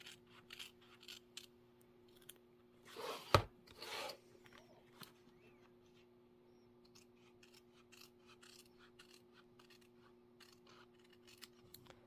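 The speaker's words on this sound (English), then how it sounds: "I cut from the back side and I cut the stabilizer away" Scissors snipping through vinyl and embroidery stabilizer from the back side, with one louder cut in the middle and soft scattered snips and rustles around it, quiet and close against a steady low hum.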